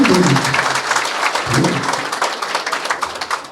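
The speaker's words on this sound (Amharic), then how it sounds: "እሺ ቢኒ የተሰማሽ ግን ጭብጨባ በጣም ያንሳል" A theatre crowd applauds loudly and continuously, dense clapping that fades slightly toward the end, with a voice briefly audible at the start.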